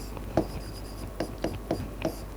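A few sparse, brief marker or pen strokes of someone writing out an equation for electromagnetic field expressions, five short taps and scratches spread over two seconds, close and quiet with no talking.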